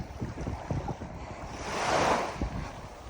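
Sea waves wash onto a beach at Karaincir near Datça, a steady surf hiss with wind noise on the microphone, swelling into one louder breaking wave midway.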